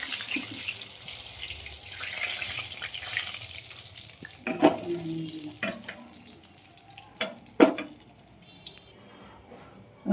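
Fish fries in oil with a faint, steady sizzle, broken by a few louder scraping and clattering knocks from a utensil or pan.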